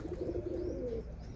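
Soft cooing of pigeon-like white birds from a flock coming down onto a roof, a low warbling call repeating in a steady rhythm over a quiet outdoor background.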